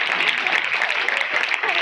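Audience clapping during a speech, a short dense burst of many hands with fairly loud, steady patter.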